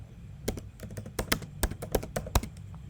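Hello-world C++ code tapped out on a computer keyboard, with a quick uneven run of crisp, close keystrokes and a few louder key hits, no voices over it.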